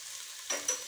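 Chopped carrot, beans and cabbage fry in a wok with a soft, steady sizzle, briefly punctuated by two quick stirring scrapes.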